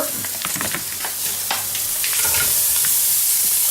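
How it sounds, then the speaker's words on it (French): Bacon lardons dropped into a pot burst into loud, close sizzling that swells into a dense, steady hiss, with scattered clatter and scraping early on. "nous allons mettre les lardons dans la marmite"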